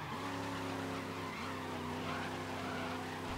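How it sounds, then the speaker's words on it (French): Race car tires squealing in the racing video game GRID, a long sustained screech over loud engine drone, continuous and close throughout. "Oh, ce crissement de pneus interminable."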